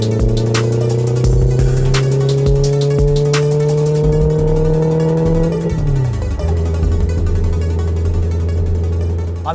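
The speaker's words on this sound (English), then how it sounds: "he's got an E93 M3, and today he's letting me drive it around" A loud 2008 BMW E93 M3 engine revs hard and climbs in pitch through the gears, with a sharp shift partway through, then settles into a lower steady drone.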